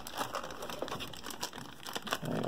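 Plastic packaging for a USB-C computer hub and dual-monitor desk stand being worked open, with continuous close crinkling and crackling, sharp crisp snaps scattered throughout and no talking.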